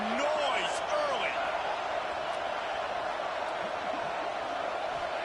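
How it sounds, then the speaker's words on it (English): A football stadium crowd at a Week 1 game roars as a continuous, loud, dense wash of noise, with a commentator talking over it. "This crowd bringing the energy and noise early."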